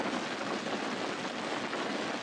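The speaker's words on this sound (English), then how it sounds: "Lots of heavy rain." Heavy rain pours during a violent wind storm with gusts near 100 mph, a dense, constant hiss drumming on a surface, steady and loud throughout, with no voices.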